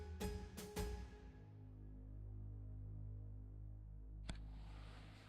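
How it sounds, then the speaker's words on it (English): Biltong maker with its fan switched on, meat hanging inside to dry, giving a steady low electrical hum and drone that holds throughout, preceded by a few sharp clicks and a single click near the end. "It's now switched on, the fan is working"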